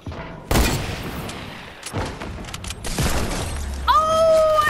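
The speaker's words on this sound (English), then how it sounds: "It's a freaking hand cannon." Gunfire from a hand cannon in the Fortnite video game: several loud, sharp shots with brief gaps, followed by a ringing electronic tone near the end.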